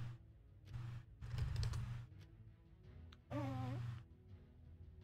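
Quiet bursts of clicking on a computer keyboard, set between soft pauses and a faint tonal sound.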